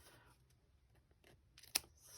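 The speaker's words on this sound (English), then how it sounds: "scissors and snip it off." Scissors snipping a piece of paper card during card making, mostly quiet handling, then one sharp, bright close snip near the end.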